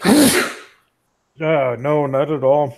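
A single sharp sneeze bursts out close and loud, followed after a short pause by a person speaking.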